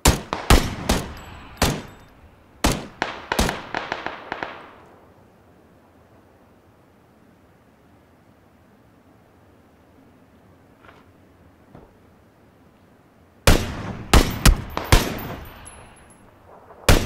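Bursts of automatic rifle fire from an AKM in the battle royale game PUBG, several loud rapid volleys in the first four seconds, a long quiet stretch, then another dense burst near the end.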